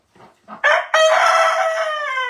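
A rooster crows loudly and close by, one long rising-and-falling cock-a-doodle-doo after a couple of short clucks, with no voices.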